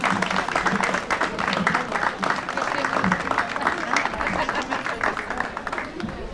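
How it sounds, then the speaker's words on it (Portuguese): Audience applause at a festival opening parade in Doze Ribeiras, a dense, steady crowd clapping with a little murmur of voices under it. "Mais um aplauso, por favor,"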